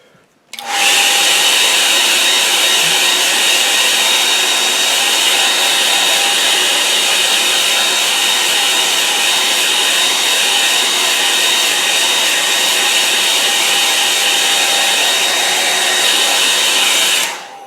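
A hair dryer blows steadily over a watercolour painting of a coast scene, switching on abruptly and running loud and unbroken with a constant whine for about seventeen seconds before cutting off.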